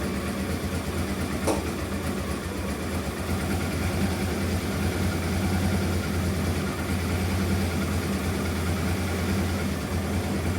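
A Honda Transalp 600 motorcycle engine, just repaired, idles quietly and steadily on its own, with a smooth low rumble that stays even throughout.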